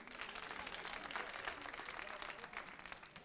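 Applause from an audience at a comedy stage performance, a dense, steady wash of many hands clapping at a moderate distance for a few seconds, without voices on top.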